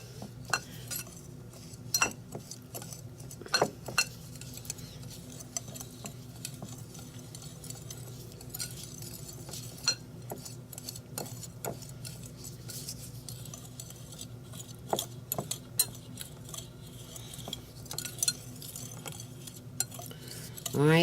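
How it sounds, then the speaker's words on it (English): Dry ingredients for keto pumpkin bread being stirred together in a bowl, a steady scrape and clink of utensil against the bowl with scattered sharper taps, fairly faint and close, with no talking. "So I'm just going to mix this all together."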